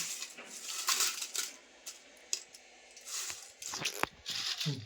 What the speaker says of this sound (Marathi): कसा आवाज येतोय बघा, कुरकुरीत